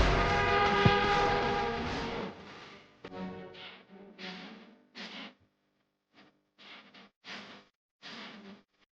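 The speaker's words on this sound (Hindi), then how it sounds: "ये ट्रेन आ रही है जलार से कंजूर की तरफ" A Pakistan Railways train approaching on the line from Jalar toward Kanjur near the Attock railway tunnels: a loud rumbling roar that fades after two seconds, followed by a series of separate bursts of rail noise and horn-like blasts at a moderate distance.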